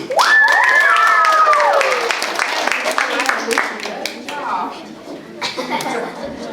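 An audience at a children's public speech contest applauds a prize winner, steady clapping and some cheering throughout, a voice sliding through a whoop near the start, with talk and a chuckle mixed in as it tapers.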